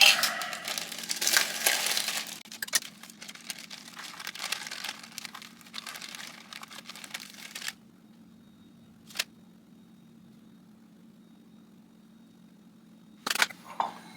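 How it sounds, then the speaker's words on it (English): A packet of cake mix being torn open and crinkled: several seconds of close, busy rustling and crumpling, then quiet with a couple of isolated small clicks. "Now we open our cake mix."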